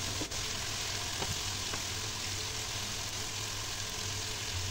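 Chopped onions with turmeric powder frying in a pan at home while being stirred, giving a steady, dense sizzle with faint scraping touches throughout, close by and without voices.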